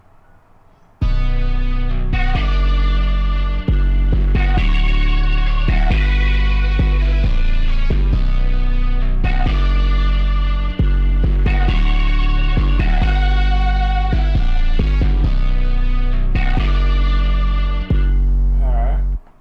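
A simple 808 bass pattern plays alongside guitars in a Maschine and FL Studio beat, a steady loud loop with punchy low bass hits and sustained guitar chords running continuously with no voices.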